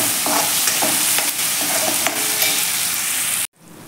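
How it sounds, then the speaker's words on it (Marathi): Tomatoes sautéing in a pan over a medium gas flame, a continuous bright sizzle with scraping stir strokes throughout, close and loud, cutting off abruptly near the end. "मीडियम गॅसवर आपल्याला हे टोमॅटो छान असे परतून घ्यायचे आहे"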